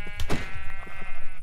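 Sheep bleating in a modded vanilla Minecraft game: one loud, wavering in-game bleat near the start, followed by quieter game sounds and faint thumps with no talk.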